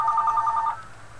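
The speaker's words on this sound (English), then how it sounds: "Of course, incoming phone calls." An electronic telephone ring sounds up close in a rapid pulsing burst, then cuts off abruptly and leaves quiet room tone.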